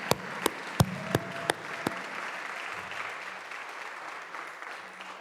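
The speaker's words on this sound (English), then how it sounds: "Let's give them a huge round of applause." A handful of sharp, distinct claps ring out at the start of audience applause at a milestone celebration, then fade into a quiet room murmur with faint voices.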